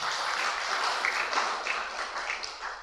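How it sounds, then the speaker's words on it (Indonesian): Church congregation applauding during a sermon, a steady wash of many hands clapping throughout, moderately loud and without any voices on top. "Beri tepuk tangan buat Tuhan."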